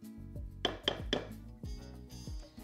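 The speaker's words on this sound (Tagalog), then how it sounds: "Ngayon po, haluin ko lang siya ng konti." Spoon clinking and scraping in a pot while stirring a suman moriekos mixture of sugar, coconut milk and glutinous flour, with a few sharp clinks in a short uneven series.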